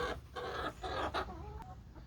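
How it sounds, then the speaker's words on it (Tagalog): Several chickens cluck in short bursts close by, a few quick calls in a row with soft scratching underneath. "yung mga manok tuka ng tuka"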